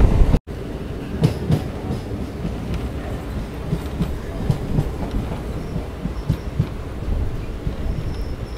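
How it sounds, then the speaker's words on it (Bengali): A single-line local train from Bangaon rolls into Satberia station, wheels clacking rhythmically over the joints in a steady close rumble with sharp intermittent knocks. "আমাদের ট্রেনটা কিছুক্ষণ আগে বনগাঁ থেকে ছেড়ে দিল। আর ঢুকছে হচ্ছে সাতবেরিয়া হল স্টেশন"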